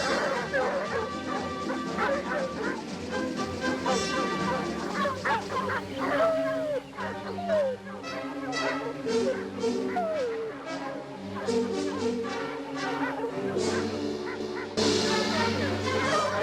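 Several dogs bark and yip repeatedly at a distance, with some whimpering, in a scene from the 1962 Lassie television series, the sounds scattered over a long stretch with faint background noise.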